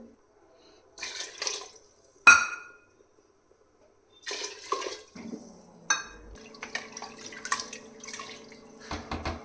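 Water splashes into a metal pressure cooker in short bursts, separated by quiet gaps and a few clanks of utensils against the vessel.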